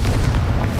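A Confringo fire spell detonating in Hogwarts Legacy, a deep, heavy booming blast with a rumbling low-end body that fills the short moment loudly and without pause.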